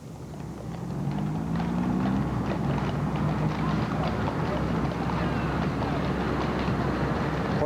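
Steady clip-clop of horse hooves on pavement amid a busy outdoor crowd at a Martin Luther King Day parade in Jackson, Mississippi, with voices and street noise running throughout.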